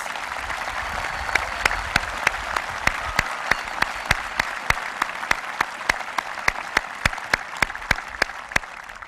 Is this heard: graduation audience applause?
yes